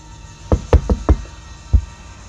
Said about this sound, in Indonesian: Aku mengetuk pintu kelas.